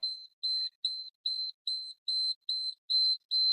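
An EmGuarde detector gives a steady run of short, high, evenly spaced beeps, about nine in a few seconds, clear and alone in an otherwise silent room.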